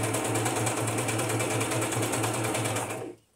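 A sewing machine stitches a napkin with pink thread in a steady, rapid mechanical whir with rhythmic needle pulsing, loud and close, cutting off abruptly at the end.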